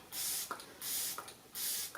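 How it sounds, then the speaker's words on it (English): Three short bursts of fine mist from a facial mist spray bottle, evenly spaced about every two-thirds of a second, each a soft hiss with a little click at its end. "Yeah, it's a mister. So we're just gonna spray."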